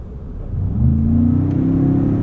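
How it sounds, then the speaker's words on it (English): A 2025 Ford Expedition Max Platinum SUV engine revs up and holds a steady, throaty rising drone with piped-in engine sound, close and loud, with a deep low rumble underneath. "Has a much gruntier sound than like the Raptor"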